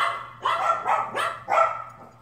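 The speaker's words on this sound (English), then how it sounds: "And the dogs go crazy." Several dogs barking loudly nearby in a home workshop, four or five sharp rough barks in quick bursts.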